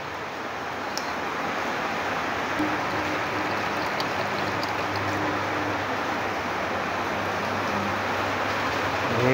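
Water added to a pot of fish head curry with coconut milk makes a steady, even rushing hiss that continues unbroken throughout, close and fairly loud.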